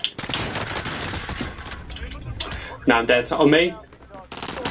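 Gunfire in Call of Duty Modern Warfare Warzone, dense bursts of rapid shots and fusillade throughout, close and loud, with players talking over the shooting.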